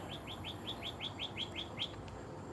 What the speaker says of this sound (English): Some sort of, like a bird.